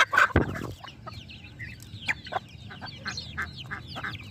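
A hen feeding on moringa greens clucks in a run of short, irregular calls, close by at first with a louder burst at the start, then quieter clucks scattered over faint background noise.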